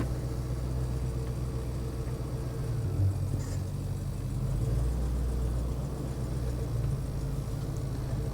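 A project car's engine runs just after a spring cold start, holding a steady low idling rumble close to the microphone with slight swells in level.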